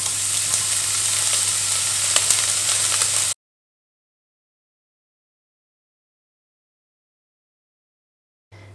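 Diced bacon sizzling in a pan with no oil, a loud steady crackling fry that cuts off abruptly into silence and resumes briefly at the end.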